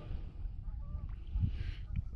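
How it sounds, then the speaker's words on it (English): Geese honk faintly in the distance during a late-season Nevada waterfowl hunt, a few brief calls rising over a steady low rumble of wind and movement. "the geese start making noise when we're packing out"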